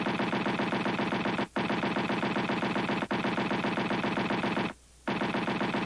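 Loud, sustained burst of rapid automatic cannon fire from 20mm cannons under test for P-51 Mustang fitting, with two brief breaks and a longer pause before the firing resumes.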